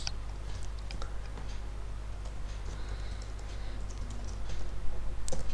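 Fingers type code on a computer keyboard, a steady patter of close, light key clicks with small pauses and a brief louder flurry near the end, over a low hum.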